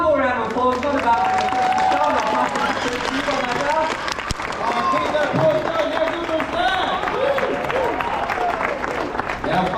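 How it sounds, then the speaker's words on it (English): Audience applause and cheering fill a tiger show at Dream World on the Gold Coast, a dense steady wash of clapping from a crowd that carries on throughout with voices mixed in. "I think we'll give him one more round of applause"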